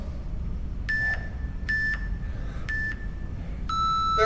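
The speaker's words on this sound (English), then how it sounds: "There's our timer ticking." A workout interval timer in a strength training class counts down with three short, evenly spaced higher beeps followed by a longer, lower final tone over a steady low background hum.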